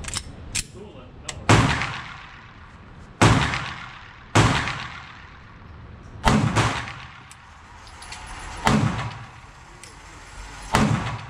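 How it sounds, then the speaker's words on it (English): A Glock 43X pistol fires six sharp, loud gunshots spaced a second or two apart, each with a short echoing decay, at an outdoor range. "So now I'm going to compare it with a Glock 43X."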